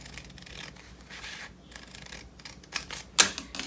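Scissors snip through fabric while cutting away excess seam allowance on a handmade beach bag, a few faint scraping rubs building to one sharp, louder cut near the end, with no talking.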